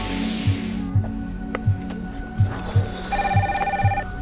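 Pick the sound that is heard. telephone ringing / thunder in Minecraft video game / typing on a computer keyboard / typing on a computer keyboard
telephone ringing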